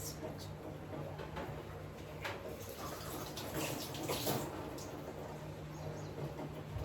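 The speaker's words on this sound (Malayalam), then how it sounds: "ഇവിടുത്തെ ഗ്ലാസ് ഒന്ന് വാഷ് ചെയ്തുകൊണ്ട് വരാം." A glass is washed under a running tap at a home wash basin, with a steady, soft rush of flowing water throughout and faint knocks and clinks in the background.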